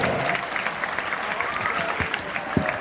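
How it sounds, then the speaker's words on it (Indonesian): A school audience at an Isra Mi'raj commemoration at a junior high in Pekalongan claps together, a continuous, fairly loud roll of many hands with a few sharper claps standing out near the end. "kompak kabeh tepuk tangan"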